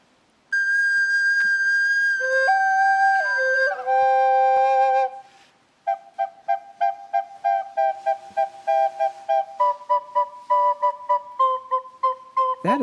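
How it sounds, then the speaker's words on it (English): One man plays three recorders at once in harmony, starting with sustained shrill chords and then moving into a rapid run of short, detached notes, loud and alone. "That is the sound of one man playing 3 different recorders in harmony at the same time."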